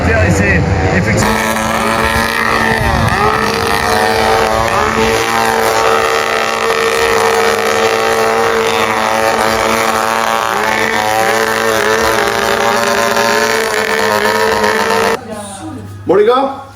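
Motocross bikes roar together at the start of an MXGP race in Ernée, a dense, steady engine drone that holds loud and then drops away near the end, with someone commentating over it.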